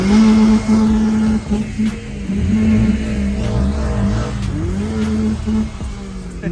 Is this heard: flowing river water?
no